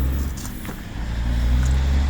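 A 2002 Mazda Protégé 5 idles steadily nearby with its heater running, a low continuous engine hum with faint clicks and rattles over it.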